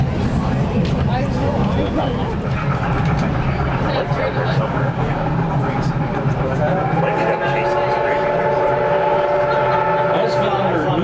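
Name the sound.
locomotive 2102 train whistle at a road crossing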